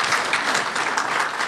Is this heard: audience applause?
yes